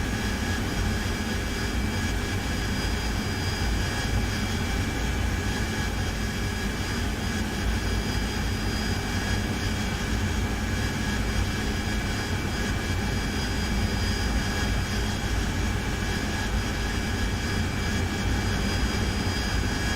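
Aircraft flying in a combat flight simulator game such as DCS or War Thunder, heard as a steady, loud jet engine roar that holds unchanged for the full length with no talking.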